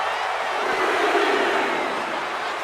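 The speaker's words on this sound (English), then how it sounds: "The roar of this crowd has been building, and they are at a fever pitch right now" Wrestling arena crowd in the WWE 2K25 video game, a broad, steady roar of many voices swelling slightly and holding, distant and continuous with no clear individual shouts.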